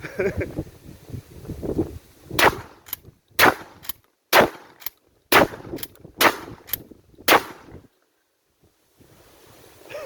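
An Axor Bushpig XT12 shotgun fires a fast series of loud outdoor shots, each a sharp blast with a short tail. Wind buffets the microphone throughout, and some faint talk comes first.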